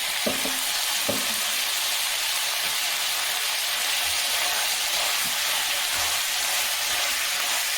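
Field beans (anapa ginjalu) frying in oil for a masala curry give a steady, close sizzle throughout, with a few soft clinks of stirring early on.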